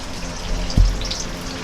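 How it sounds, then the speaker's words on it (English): Tofu fries in hot oil for pad thai, a soft continuous sizzle and crackle with one brief louder thump partway through. "All right, they're already frying up."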